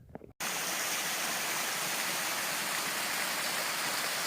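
A waterfall stream on the Appalachian Trail pours steadily, a dense, even rush of falling water close by that starts abruptly after a brief quiet moment.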